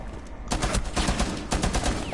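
Rapid bursts of automatic gunfire in a shooter video game, loud, close, and repeated in clustered volleys with no talk over them.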